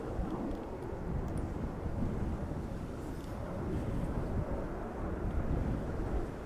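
TAP airliner departing Dublin Airport's north side during Storm Floris, a distant broadband jet roar mixed with gusting wind buffeting the microphone, steady throughout with no talk.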